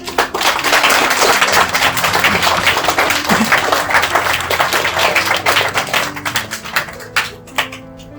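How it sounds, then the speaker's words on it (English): Wedding guests burst into applause during a reception speech, loud dense clapping that thins into scattered individual claps toward the end. "you all deserve a round of applause"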